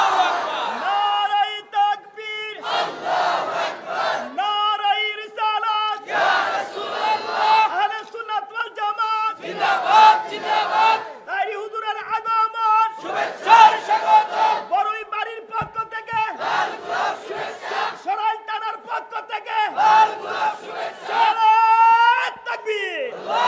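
A large crowd at a religious gathering chants a slogan in loud call-and-response bursts, voices roaring together in repeated rhythmic waves with short pauses between each shout.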